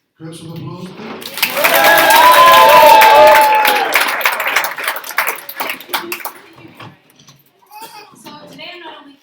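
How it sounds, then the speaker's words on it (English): Guests at a wedding reception clap and cheer as the maid of honour is introduced. A brief voice opens, a bright whooping cheer swells, then a burst of close, loud clapping thins out into quiet. "Grab some applause, please."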